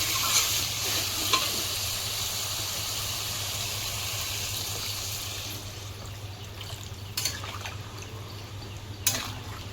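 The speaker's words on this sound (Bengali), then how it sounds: "এবার আমি জল দিয়ে দেবো।" Water poured into a pan of sizzling spice masala with potatoes and pointed gourd for a homestyle Bengali fish curry gives a steady, close frying hiss, with a few sharp clinks and splashes near the end.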